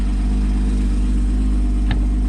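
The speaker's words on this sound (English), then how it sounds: "Very sporty sounding car, and it's got the performance to match that as well" A 2014 Porsche 981 Boxster S with PDK gearbox and switchable sports exhaust idles with a steady deep rumble, close and loud, with one brief sharp tick partway through.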